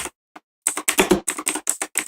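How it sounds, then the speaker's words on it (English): Rapid clicking of keys on a computer keyboard, close and fairly loud, in irregular bursts with a short pause near the start; no talking. "Sorry for the keyboard noises."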